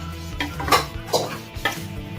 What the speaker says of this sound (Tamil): இப்ப இதுல போட்டு நம்ம வதக்கிக்கலாம்